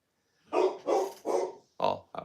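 A dog barks four times in close succession, loud and near, followed by a short fifth yelp, each bark strong and sharply separated by brief gaps with no talk over them.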